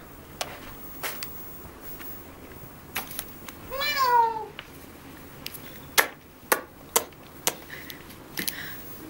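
A cat gives a single drawn-out, wavering meow midway, close and clear, amid scattered sharp taps and clicks in an otherwise quiet room.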